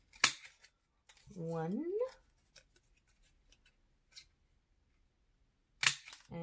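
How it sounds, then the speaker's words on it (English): Paper envelopes being cut out with scissors, giving a close, sharp snip followed by a longer rasping slice through the sheet and a few small clicks, then another crisp snip at the end; one brief word is spoken. "I'm just going to cut 2 out."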